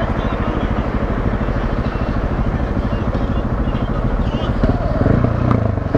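A Husqvarna motorcycle engine pulses steadily and loudly while riding, with the rhythmic firing beat holding for several seconds before a rougher, heavier surge near the end as a wrong gear is selected.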